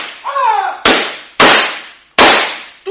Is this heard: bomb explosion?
yes